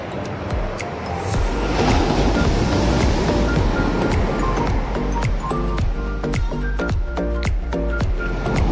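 Sea waves surge and wash loudly on the coast at Mastram Dhara, Gujarat, with a steady roar of surf and some wind buffeting; no voices.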